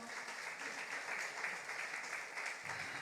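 A church congregation claps together in steady, dense applause that fills the whole stretch at a fairly quiet, distant level, with a faint murmur of voices underneath.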